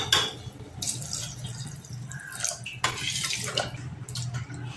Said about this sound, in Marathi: आता आपण पाणी घालूया।